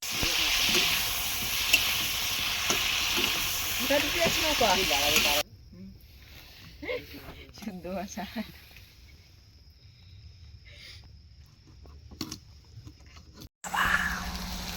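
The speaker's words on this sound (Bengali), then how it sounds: "আলু ভাজা চলছে" Potatoes fry in a pan at a nighttime camp aboard a boat in the Sundarbans forest, giving a steady loud sizzle and hiss that drops away midway, with voices talking over and between.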